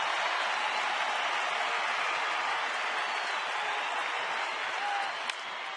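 A crowd of 42,000 at a Braves–Dodgers baseball game in Los Angeles cheers and claps steadily, a dense roar that holds at full strength throughout.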